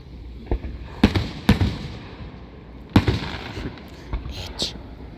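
Fourth of July fireworks bursting overhead, several sharp booms spaced a second or two apart over a steady crackling background, with faint crowd voices murmuring between blasts.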